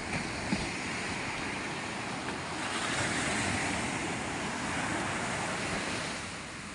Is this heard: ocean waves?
yes